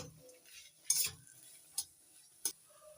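A spoon stirs garam masala into a cauliflower mixture in a pan, giving soft scraping with three sharp clinks against the metal over a low, quiet background.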